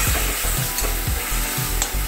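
Spice paste frying in a pan for koi fish tel jhal, a Bengali fish curry. Loud, close sizzling is broken by rhythmic stirring scrapes of a spatula.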